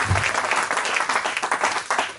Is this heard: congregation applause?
yes